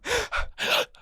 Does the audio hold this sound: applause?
no